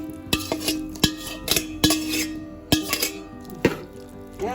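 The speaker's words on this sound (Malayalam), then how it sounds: "നന്നായിട്ട് ഇളക്കിക്കൊണ്ടിരിക്കുക" A spoon stirs cassava into coconut milk in a clay pot, giving a series of sharp scraping clinks against the pot wall in an uneven rhythm, close up and loud with no talking.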